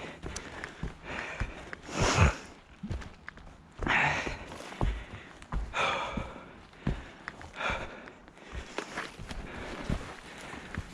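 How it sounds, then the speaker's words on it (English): Heavy breathing from a hiker on a trail loop, a run of audible sighs, puffs and sniffs in uneven bursts, close to the microphone, with faint footsteps between breaths. "Hope my heavy breathing is not bothering"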